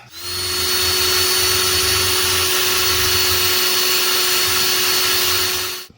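A loud, steady motorized whine runs continuously for several seconds, like a power drill held on at full speed, during a Porsche repair.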